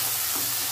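Onions and tomatoes sautéing with salt in a pan give a steady, close, loud sizzle with no voices, lasting under a second.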